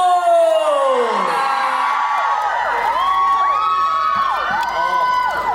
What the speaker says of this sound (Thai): เราขอเสียงกรี๊ดด้หน่อยครั้งหนึ่ง